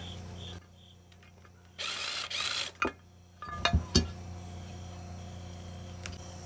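A hand ratchet works on a 10 mm bolt during the teardown of a two-cylinder motor for scrap. Short bursts of clicking and metallic clanks sound close by between quiet pauses.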